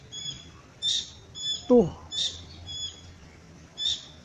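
Many birds call from big trees behind a house in the late afternoon: a series of sharp chirps and whistled notes with one lower swooping call, and a voice speaks briefly.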